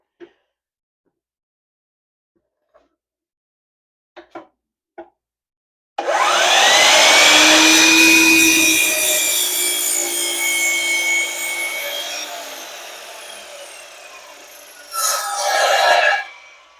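An Admiral miter saw spins up and cuts a bevel through wood, a loud sustained whine and rasp lasting about ten seconds, with a second brief burst near the end, preceded by a few faint clicks.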